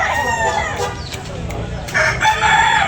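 A rooster crows loudly and close by, a drawn-out raspy call, with clucking and other birds in the background.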